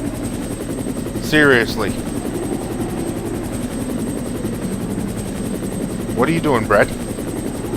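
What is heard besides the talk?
helicopter hovering in Resident Evil Director's Cut video game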